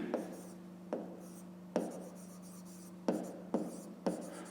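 Pen writing out routes for a fifth-grade maths exercise, a steady scratchy scraping on paper broken by a few sharp taps where strokes start, close and fairly quiet, with a low hum beneath.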